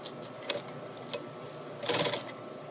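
A sewing machine runs steadily while stitching along a fabric panel, a fairly quiet, even mechanical whir with small clicks, briefly quickening in a short louder burst near the end.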